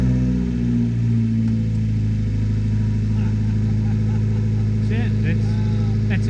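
An Abarth X19 sports car engine runs steadily at idle, a loud, close, continuous low drone with people talking over it.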